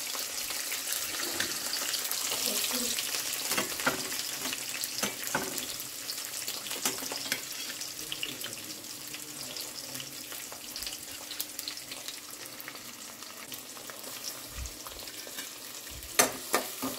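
Peanuts frying in a pan for a breakfast dish, a continuous close sizzle with sharp pops and crackles plus intermittent stirring scrapes, loud at first and easing slightly later.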